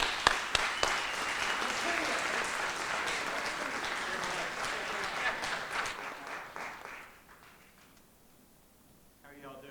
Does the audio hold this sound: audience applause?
yes